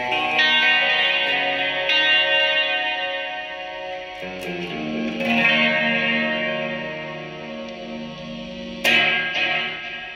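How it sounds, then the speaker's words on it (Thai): Electric guitar through a Line 6 Pod HD300 with hall reverb, delay and chorus plays lush sustained chords that ring and swell with echoing repeats, close and alone. "พวกนี้เพิ่มดีเลย์เพิ่มคอรัส"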